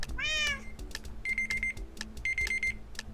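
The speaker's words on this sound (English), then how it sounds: "My timer just went off" A timer goes off in two short beeping bursts, each a quick run of bright electronic pips, heard over a meowing cat and soft background noise.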